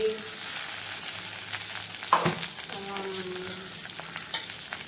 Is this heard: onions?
yes